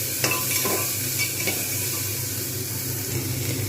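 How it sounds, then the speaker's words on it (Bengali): Egg tadka masala is sautéed on full flame, giving a loud, close sizzle with brisk stirring and scraping of a spoon against the pan. "এটাকে কিন্তু আমি আবার ফের ভালো করে কষতে থাকবো আঁচ কিন্তু একদম পুরো ফুল থাকবে"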